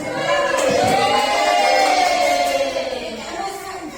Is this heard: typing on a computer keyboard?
no